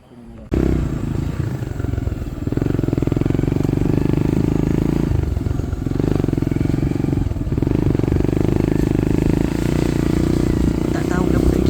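A motorcycle rides along a muddy trail at a Megatrail event, its engine droning loudly and close with shifting throttle and rattling clatter, while a voice speaks over the noise.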